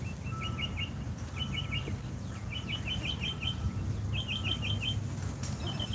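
Birds chirp in short rapid trill bursts repeated every second or so in a park, moderately distant over a steady low rumble of wind.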